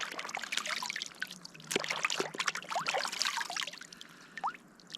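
Water splashes and trickles over cleaned squid on a camping beach, irregular close dribbling and spattering that comes in uneven bursts over a quiet background.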